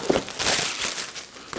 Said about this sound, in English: Just snip this plastic.